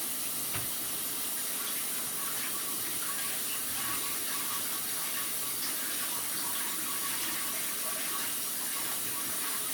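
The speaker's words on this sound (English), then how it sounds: "they're starting to loosen up just a little bit now that I'm running this hot water over them" Hot water from a tap runs steadily over yakisoba noodles in a kitchen sink. The flow is a continuous, fairly loud splashing rush with no talking over it.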